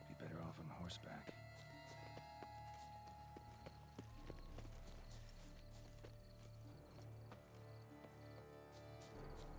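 A horse's hooves clip-clop in a steady trotting rhythm through a sprawling garden estate in The Witcher 3: Wild Hunt – Blood and Wine, set against ambient game music and environmental sound, with a brief neigh near the start.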